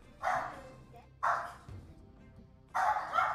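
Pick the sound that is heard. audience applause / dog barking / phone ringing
dog barking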